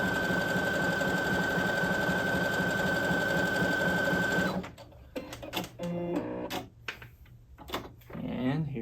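A Baby Lock Presto II sewing machine stitching knit fabric runs in a fast, steady whir, then stops and gives way to clicks and handling noises while someone talks.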